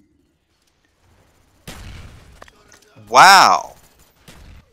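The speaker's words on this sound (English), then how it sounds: "That was a lucky grenade, because if it didn't bounce like that, it wouldn't have gotten all of us." A grenade explosion and gunfire in the video game Call of Duty Black Ops, with a sharp blast followed by a short burst of shots, and a person exclaiming over it.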